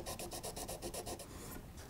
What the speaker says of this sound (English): I'm gonna come in with some sandpaper and see if I can kind of blend that in and smooth it out a bit